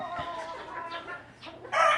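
Chickens clucking and a rooster calling nearby on a farm, several overlapping bird voices including hens, with a louder burst of clucking near the end.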